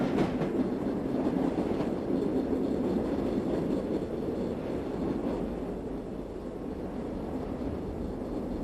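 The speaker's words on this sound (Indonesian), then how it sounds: "Kereta ini sudah mendekati Madrid, ibu kota Spanyol." Steady low rumble of a train nearing Madrid, Spain, rolling along the tracks, continuous and fairly loud with a faint rhythmic clatter underneath.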